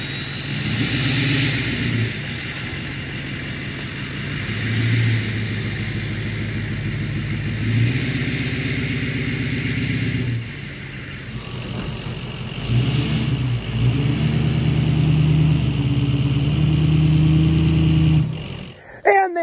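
A truck or tractor engine labours while pulling a shed across a property, a loud, steady mid-pitched drone that rises and falls with revving, close by, with no speech.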